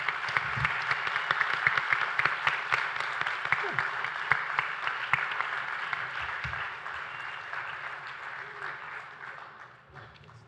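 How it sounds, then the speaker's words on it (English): Audience applause at a mayoral forum in Richmond, a sustained wash of many hands clapping that holds steady, then gradually fades toward the end. "Let's give them all a round of applause."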